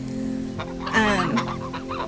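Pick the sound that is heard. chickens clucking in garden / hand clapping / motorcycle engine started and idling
chickens clucking in garden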